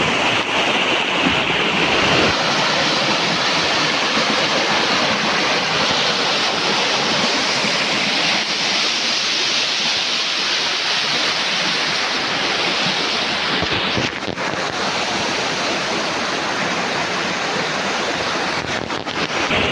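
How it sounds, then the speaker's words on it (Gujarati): Continuous broadband rush of river water after high water, loud and steady throughout, with wind buffeting the microphone and no voices. "જો મિત્રો આ નદીની અંદર પાણી જાય છે"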